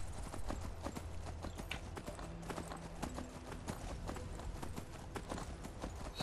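Horse hooves clip-clop steadily in the video game Skyrim, a quick rhythmic run of hoofbeats heard at moderate level throughout with no talking.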